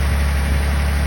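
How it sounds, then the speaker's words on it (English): An '85 Toyota Celica Supra's 5M straight-six idles on a cold start, a smooth, steady low rumble heard up close with no talking. "Very smooth running engine, the 5N. Sounds good as well."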